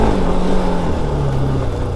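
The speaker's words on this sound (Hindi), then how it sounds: "अब मैं दोबारा जा रहा हूँ ऑफ रोड पे भगाते हुए बाइक को" A motorbike is ridden fast off road along a rough hill track in Uttarakhand. The engine gives a loud, close, steady drone that barely changes pitch.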